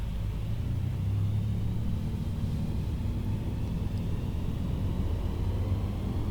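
A light aircraft's engine roars at full throttle during takeoff in Microsoft Flight Simulator, a steady, heavy low rumble that holds constant and close with no voices over it.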